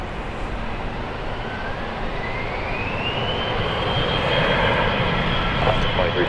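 FlexJet business jet taking off from Dallas Love Field, a loud continuous engine roar building steadily with a rising whine as it accelerates down the runway, close and dominant throughout.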